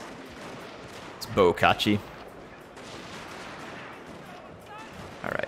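Guns mounted on a castle wall in Total War Shogun 2 crackle in a couple of short volleys of popping shots, fairly close and loud, with someone talking across the scene.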